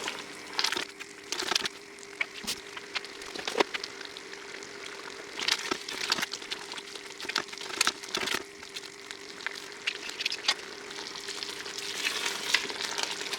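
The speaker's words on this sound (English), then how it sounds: "now that I've upped the heat, I will certainly stir it a bit more just to make sure it actually doesn't burn" Homegrown plum jam at a rapid boil in a pot, stirred with a wooden spoon: bubbling sizzle with repeated scraping and knocking strokes against the pot, close and uneven, no voices.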